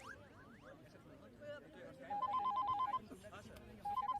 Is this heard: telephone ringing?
yes